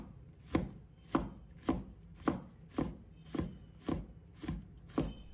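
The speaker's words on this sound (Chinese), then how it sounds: "再准备适量的青红椒，把它切成丝。 再切成小粒。" A knife chops green and red peppers into small pieces on a board, nine even, evenly spaced thuds in a steady rhythm, close and fairly quiet, with nothing else heard.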